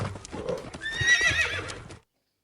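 Horses whinny and their hooves clip-clop over flat, sandy ground during an Australian cattle drive, a close, busy mix of neighing and hoofbeats that stops abruptly.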